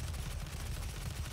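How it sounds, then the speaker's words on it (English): A grenade explosion in the shooter game Doom is heard as a dense, sustained burst of loud, rumbling blast noise that fills the whole short moment. "That was a grenade."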